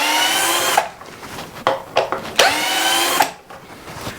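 A KIMO cordless drill driver whirs in two bursts at speed 2, spinning up and winding down as screws are backed out, with brief clicks between runs.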